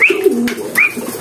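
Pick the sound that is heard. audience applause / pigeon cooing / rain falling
pigeon cooing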